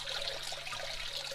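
Water rushing through a gold prospecting setup on the Kern River at Hart Park, a steady close wash and trickle with no voices over it.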